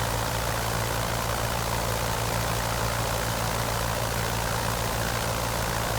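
Jenny biplane engine in the Project Coastline flight sim, a steady low droning hum with a constant pitch and a broad noisy wash on top, loud and unbroken throughout with no talk.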